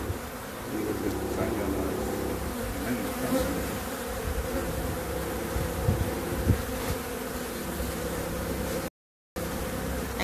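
A honeybee swarm arriving at empty hives makes a dense, steady buzz that is loud and close, holding unbroken through the whole stretch apart from a short gap near the end.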